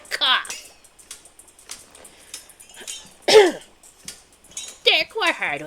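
A man coughs and clears his throat several times while playing the video game Wanderstop. The harsh bursts are loud and close, broken by short pauses and some vocal noises.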